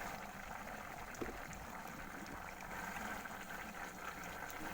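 Maan kochu (giant taro) curry with tamarind bubbling in a pot, a steady close simmer of dense small bubbles with a faint splash near the start and no talk.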